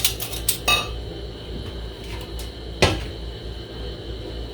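A metal dye pot being shifted over onto a stove, giving a quick run of clanks and clinks, then a single sharp bang later, with a quiet background and no talking.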